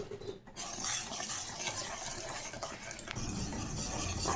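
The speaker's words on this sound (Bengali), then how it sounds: "এই চিনিটা দিয়ে আমি ভালো করে নাড়বো" A spoon stirring sugar into a watermelon mixture in a pot, a soft continuous swishing and scraping close up, quiet and steady with a faint clink near the end.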